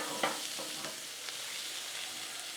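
Tomatoes cook down on a Blackstone griddle, a soft, even sizzle with a few light scrape and tap sounds of a utensil near the start, fairly quiet throughout.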